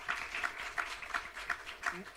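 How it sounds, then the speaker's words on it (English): Clapping from the public in a city council chamber, a brief cluster of hand claps in a rhythmic pattern, fairly faint, with a voice speaking over it. "No clapping"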